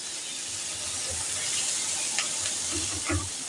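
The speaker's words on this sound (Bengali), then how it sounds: "খানিকক্ষণের জন্য একটু ভাজা ভাজা করব।" Masoor lentils fry in a pan over low to medium heat, giving a soft, steady sizzle and hiss with a few small crackling pops near the end.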